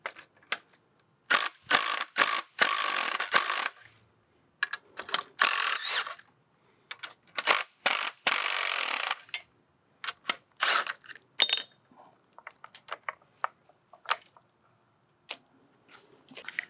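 A hand ratchet cranks down front suspension bolts on a BMW E46, rapid clicking runs in several long bursts and then shorter strokes, close and crisp, separated by silent pauses.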